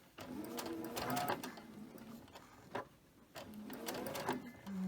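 Close up, a home sewing machine stitches a quilt block from cotton cuts in rhythmic bursts with brief pauses between runs while the bobbin runs low, and a voice speaks faintly in the background.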